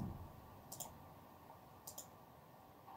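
Computer mouse clicks while editing in FL Studio: a few quiet, sharp clicks in pairs, spaced about a second apart over a low steady hum.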